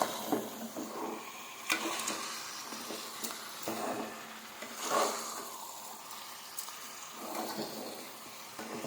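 Chicken curry being stirred in a pot after rock salt and turmeric go in, with a soft steady sizzle and occasional scraping clinks of a spoon against the pan, moderately close and fairly quiet.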